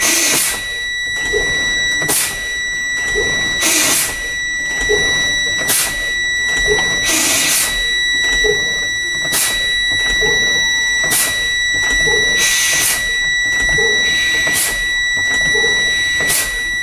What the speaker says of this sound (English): My warning light and buzzer come out at 70 PSI.